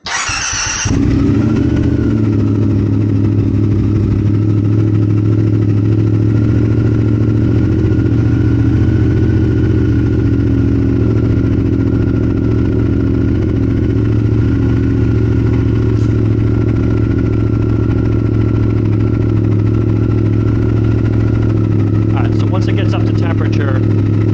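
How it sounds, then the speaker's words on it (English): A 2022 Triumph Speed Twin motorcycle fitted with an X pipe exhaust fires up and idles steadily and loudly close by, a deep even rumble holding for over twenty seconds. "So let's fire it up and see how it sounds."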